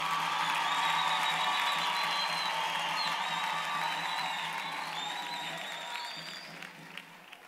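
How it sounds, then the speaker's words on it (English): Sustained audience applause with scattered cheers and whoops at a university engineering faculty graduation ceremony, a dense wash of clapping from a large crowd that stays steady and then slowly fades toward the end. "You deserve a big round of applause."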